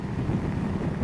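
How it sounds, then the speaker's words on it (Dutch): Wind buffets the rider of a Ducati Multistrada motorcycle on the road, a loud low rumble of air pounding close against the microphone with no speech. "ik merk ook dat de wind aardig over me heen slaat"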